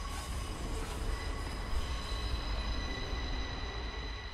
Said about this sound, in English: It would appear that's no ordinary train.